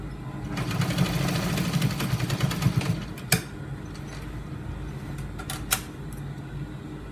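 A sewing machine runs a steady rapid stitching burst along the folded edge of trouser gaiter fabric for about three seconds. It then stops, leaving a few sharp clicks and handling knocks.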